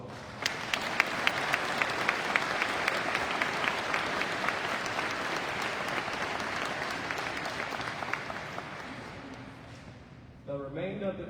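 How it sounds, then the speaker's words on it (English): An audience applauds graduating warrant officers at a Warrant Officer Candidate School graduation ceremony, with dense sustained clapping that fades out before a voice starts speaking. "please join me in a round of applause for these outstanding warrant officers"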